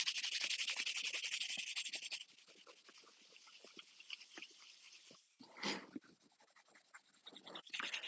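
Pot being sanded by hand with 800 grit sandpaper, a close, dense rasp of rapid back-and-forth strokes that is loudest at first, then lighter and more scattered, with no talk.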